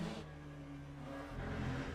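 McLaren GT3 race car in a sim racing game at Spa-Francorchamps braking hard for the chicane in the rain, engine note dropping from a steady whine to lower revs, faint and continuous.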